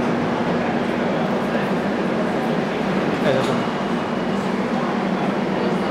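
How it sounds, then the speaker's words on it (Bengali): Interior of a moving Madrid metro train: a steady, loud rumble and hum of wheels and car noise fills the whole stretch, with a faint brief clatter midway and no clear talk. "মাদ্রিদ মেট্রো দেখুন কি দারুণ"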